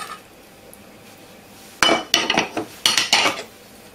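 Eggs, milk and butter beaten together in a bowl for a batter make a burst of quick, close clinks and scrapes of a utensil against the bowl after a quiet start.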